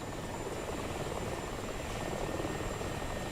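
An AH-64 and an Mi-24 helicopter in a combat video game, a steady dense rotor and engine roar with a faint high whine, loud and continuous without any voices.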